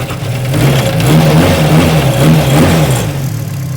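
A Jaguar race car engine with a knock runs loud and close, revving with a rough, uneven mechanical tone and no voices.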